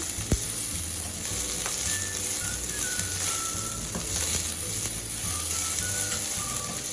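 A large chopped onion fries and is stirred in a pan for a vegan Indian-style pumpkin curry, giving a continuous close sizzle with occasional soft scrapes and taps from the spoon.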